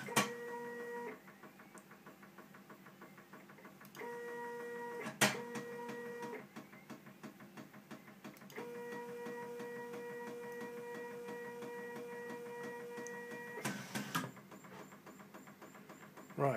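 A 3D printer runs through a resume and nozzle-heating step, its stepper motors whirring in steady tonal bursts with short pauses and a few sharp clicks, close and moderately loud, with no talk over it.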